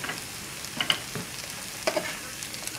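A spoon stirs chicken and cannellini beans with dried basil in a sizzling pan, giving a few soft scrapes and light clinks over a steady low fry, close and brief, with no talk.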